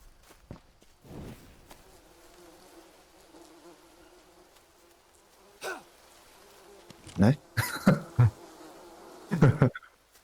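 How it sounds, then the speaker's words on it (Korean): Bees buzz around a beehive in the jungle survival game Green Hell: Spirits of Amazonia. A faint, steady drone hums under louder short bursts of noise and throat sounds near the end. "벌집 있어요, 조심."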